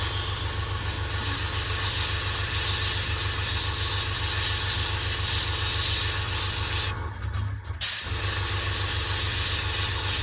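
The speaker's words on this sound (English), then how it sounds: "A little test spray to get things flowing on my hand." A paint sprayer hisses steadily over a low pulsing motor while blue paint is applied to a model Austin Tilly car wheel, with a brief pause in the spray near the end before it resumes.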